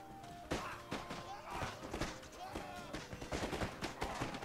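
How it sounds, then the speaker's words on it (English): Pistol volleys in Empire: Total War during a siege of Constantinople, repeated sharp shots in ragged bursts with overlapping thuds and battle din, dense and continuous. "the people firing the pistols back here are maybe killing the guys in front of the unit"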